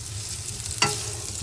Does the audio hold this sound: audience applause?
no